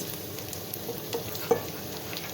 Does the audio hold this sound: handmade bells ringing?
no